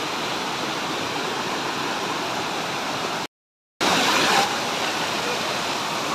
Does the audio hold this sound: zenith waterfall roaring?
yes